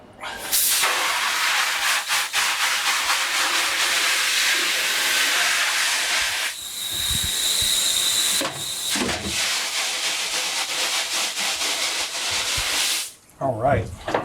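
A water spray rinses the inside of a thickly coated screen-printing screen during stencil washout, giving a loud, steady broadband hiss that runs for several seconds, drops out briefly twice, and stops near the end.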